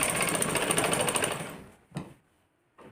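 A sewing machine stitches the shoulder seams of a collared kurti. It runs fast and steadily for about a second and a half, then stops, followed by a couple of soft handling thumps.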